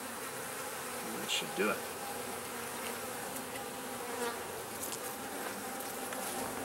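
Honey bees buzz in a continuous, quiet drone during a hive inspection, with a few louder passes near the microphone and a person speaking briefly.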